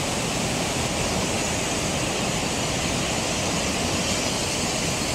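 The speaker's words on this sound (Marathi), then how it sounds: "जास्त पाऊस असेल तर भरपूर पाणी येते इथून." Water rushing down rocks beside a temple, a dense, steady roar of flowing water that stays loud and unbroken throughout, with no voices.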